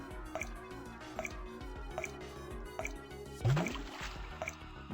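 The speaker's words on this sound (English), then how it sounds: "we also have a water dispenser, which will start dripping water once power reaches it" Water drips from a dispenser in a Flash puzzle game, single bright plinks landing at a steady, slow rhythm about once a second, with a brief louder squishy gurgle partway through over a faint game-music bed.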